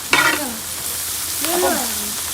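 Onions with ginger-garlic paste sizzling in a pan as they are stirred, a steady frying hiss under two short, squeaky scraping strokes.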